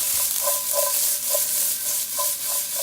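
Onions fry in a pan as they caramelize, giving a steady close hiss of sizzling with a few soft, rhythmic scrapes and taps of a utensil and no speech.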